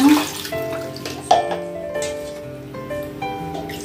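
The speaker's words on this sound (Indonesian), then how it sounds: "Kita tambah airnya." Water poured into a cooking pot of chicken, giving a splashing, gurgling pour with shifting tones as the pot fills, close and fairly loud.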